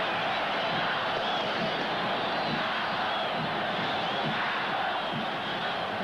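A huge crowd of Atlético supporters packing a football stadium in 1980 sends up a steady, dense roar that fills the air without pause, loud and distant-sounding.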